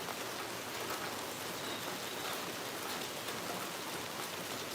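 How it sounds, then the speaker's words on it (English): Steady rain patters against a window pane, a dense, continuous hiss of drops close by with no pauses, heard alone without any voices. "the sound of the rain against my window pane"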